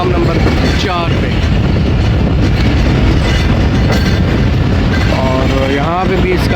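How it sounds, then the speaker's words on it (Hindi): The 8Dn Tezgam Express rolls into platform 4 at Lahore Junction with a constant heavy rumble and rattling wheel clatter, and muffled voices are mixed into the din. "8 डाउन तेज़ गाम का अराइवल हो रहा है लाहौर जंक्शन के प्लेटफार्म नंबर 4 पे"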